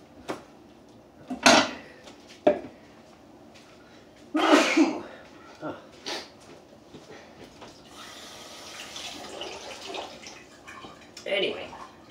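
A single sharp sneeze bursts out near the start, followed by light clatter and kitchen handling noises with a few more soft bursts.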